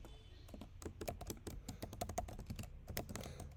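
Code typed on a computer keyboard, a quick, close run of irregular key clicks and taps, fairly quiet, with no voice over it.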